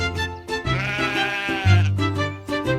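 A sheep bleats several times in quick succession, close and clear, with wavering drawn-out calls and short breaks between them.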